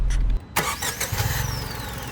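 A Tata Altroz Racer hot hatch engine revs sharply after a brief low idle, the exhaust note rising quickly then settling back toward a steady hum, heard up close with no talking.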